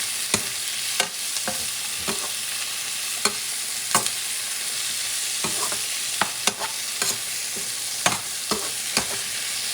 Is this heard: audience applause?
no